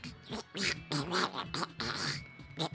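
A person imitating duck quacks, a quick run of nasal, raspy honking bursts repeated in an uneven rhythm, close and fairly loud, without other sounds.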